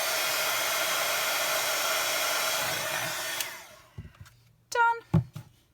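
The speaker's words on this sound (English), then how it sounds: "Do love a bit of heat embossing, I really do." A heat embossing tool blows hot air in a loud, steady roar for about three and a half seconds, then cuts off, leaving a few faint clicks and taps.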